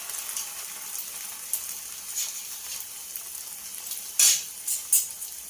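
Jalebi batter sizzles quietly in hot oil, a steady soft crackle with a few sharper pops and splashes near the end as pieces are dropped in and turned.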